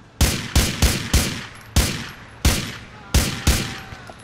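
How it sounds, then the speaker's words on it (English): Gunfire aimed at the player in GTA 4: eight sharp, loud shots ring out in uneven bursts, close and echoing, with brief decaying tails between them. "We're being shot at!"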